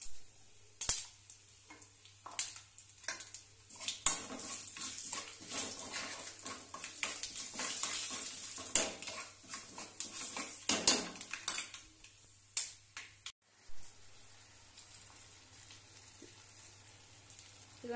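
Spices tempering in hot oil in a pan for a Telugu okra chutney, a faint sizzle and crackle under a run of metallic scrapes and clinks from a stirring spoon, fading toward a quieter finish with a low steady hum beneath.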